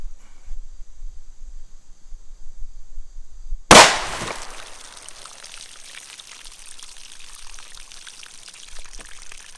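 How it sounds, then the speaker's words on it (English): A single .357 Magnum gunshot from a 125 grain Remington Golden Saber load, fired outdoors into water jugs, cracks sharply and loudly after a quiet stretch, then rings into a long, fading echo. "the sole 357 Magnum load that I have with me out here today. This is the 125 grain Remington"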